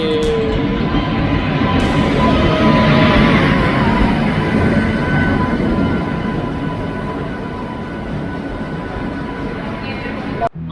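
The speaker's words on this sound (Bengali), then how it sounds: "আমাদের ট্রেন সমুদ্রকন্যা এসে পৌঁছে গেছে।" The Samudrakanya train pulls into platform 1 at Kharagpur station with a loud, continuous rolling rumble and rattle that slowly eases. Excited people talk close by throughout.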